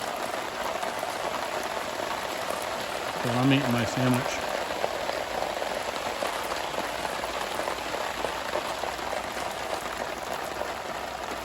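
Steady rain patters and hisses on surfaces outdoors under a blue sky while someone speaks briefly over it.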